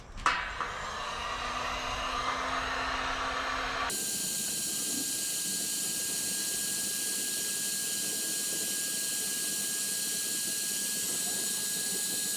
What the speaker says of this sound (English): See things steaming on the other side.